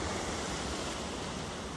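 Ocean waves wash in a steady, dense roar of surf, close and even with no distinct breaks, heard with no talk.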